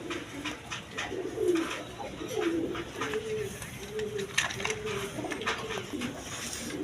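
A pair of big desi golla pigeons cooing close by, a steady series of soft, low rolling coos repeating every second or so over faint background noise.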